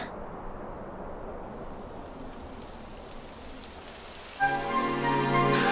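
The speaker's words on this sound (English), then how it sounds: "It would have to go and start raining, wouldn't it?" Steady rain in Dragon Quest XI patters and hisses throughout, then a louder tonal swell, like music or a horn, rises near the end.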